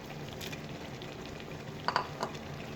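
Carrot halwa with chopped coconut being stirred in a pan, a soft continuous frying hiss with a few light scrapes and taps of the spoon near the end, faint and close.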